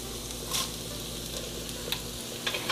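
Dried red chilies sizzle in hot oil inside a Ninja Foodi while cooking sambhar, a continuous close crackling hiss with a few brief sharper pops scattered through.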